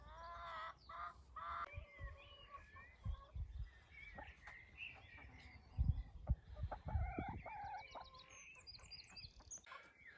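Chickens cluck and squawk inside a backyard chicken coop, with scattered close calls and bird chirps over quiet outdoor background.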